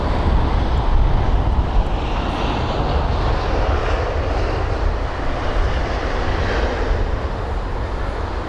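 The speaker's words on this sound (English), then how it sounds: "the aircraft that is just pushed back now is the Air India 787 Dreamliner" An Air India Boeing 787 Dreamliner at London Heathrow, just pushed back, gives off a continuous broad jet engine roar, steady and fairly loud from a distance, with some wind buffeting and no voices.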